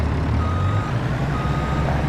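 Steady reversing beeps from a truck backing up to a container chassis in a trucking simulator game, mid-loud and continuous with engine rumble underneath.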